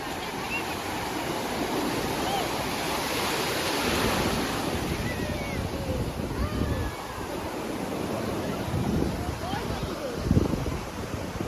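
Sea waves wash onto the beach at Digha, a broad continuous roar of surf mixed with wind buffeting the microphone, loud and close throughout, with friends' voices faintly mixed into the noise.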